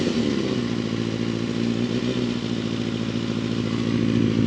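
A restored Honda CBR250RR MC22 motorcycle engine runs steadily close by, with a fast, busy, buzzing idle and a slight mechanical clatter, loud and continuous with no talk over it.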